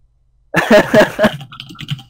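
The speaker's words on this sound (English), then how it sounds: "Get your keyboard out then. Can you hear it click-clack again?" A computer keyboard clatters in a quick burst of typing, several close, crisp key clicks in an uneven rhythm lasting about a second and a half after a silent start, then a few softer taps.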